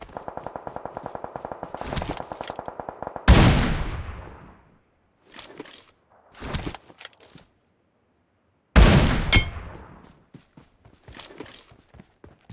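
Gunfire in the mobile battle royale game PUBG Mobile: a few loud, sharp shots with reverberant tails, separated by quieter rhythmic footstep-like tapping and short bursts.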